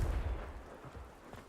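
A Confringo fire spell blast in the video game Hogwarts Legacy: one short, low booming burst at the start, then a dull fading rumble.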